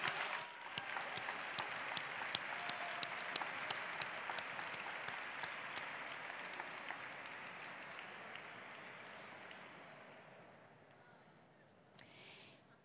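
Strong applause from the audience at a 2015 university graduation ceremony, dense clapping that holds steady and then gradually thins and fades toward the end.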